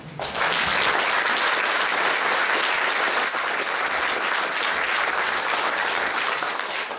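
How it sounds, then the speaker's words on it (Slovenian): Steady, dense applause from a large audience at a political election convention in Slovenj Gradec fills the hall, sustained and loud throughout. "čeprav je pravkar dobil že en aplavz, da si zasluži še enega"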